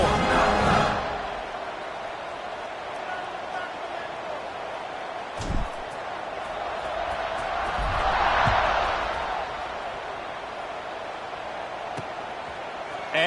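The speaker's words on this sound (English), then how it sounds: "this crowd is buzzing after that last score" A football stadium crowd buzzes after a touchdown, a broad steady roar that swells and fades, with occasional thumps and a commentator talking over it.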